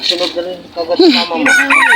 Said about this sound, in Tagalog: May mga manok pa sila rito.